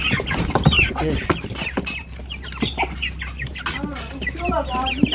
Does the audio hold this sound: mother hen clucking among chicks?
yes